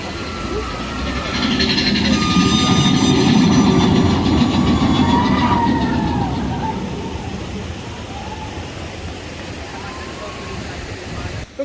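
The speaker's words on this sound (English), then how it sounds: "you can hear the waterfall, the train going by" A theme park mine train ride (Big Thunder Mountain) at Disneyland rumbles past with rattling, clattering wheels, louder at first then fading, over a steady rushing wash of a waterfall.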